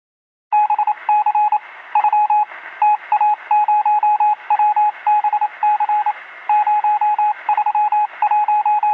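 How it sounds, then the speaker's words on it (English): A short electronic jingle of repeated beeping tones in a quick, regular pattern, clear and prominent, with no talking. "You know what that sound means? It is the number of the day segment."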